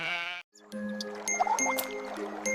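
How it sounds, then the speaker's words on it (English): A sheep bleats once, a clear wavering call at the start, followed by quieter farmyard background with faint tinkling sounds. "This is a sheep."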